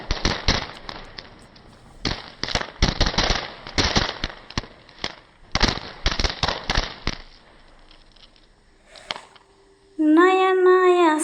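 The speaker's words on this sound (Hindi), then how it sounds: "हम लोग शाम को बहुत पटाखा जलाए" Firecrackers set off in the evening during Chhath Puja celebrations, bursting in rapid crackling volleys of sharp pops with short pauses, loud and nearby, followed by a brief tonal cry near the end.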